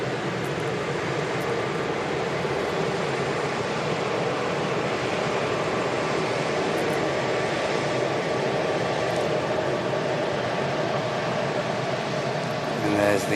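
An Emirates airliner taxis past at Manchester Airport, a steady, moderately distant engine rumble and hiss that stays even throughout, with people chatting nearby.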